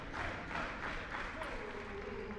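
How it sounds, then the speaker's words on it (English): A volleyball crowd at a men's college match, Lewis versus Quincy, makes noise for the server, a soft distant wash of cheering and clapping with a commentator talking over it. "Crowd making some noise for Coonan as he sends it over."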